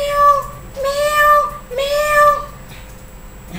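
A voice imitates a cat's meow, giving two drawn-out, sing-song mews, close and clear, for a children's story about a cat.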